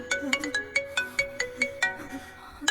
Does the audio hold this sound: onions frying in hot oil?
no